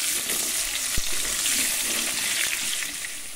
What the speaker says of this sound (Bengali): আলুগুনা লাল লাল করে ভেজে নেব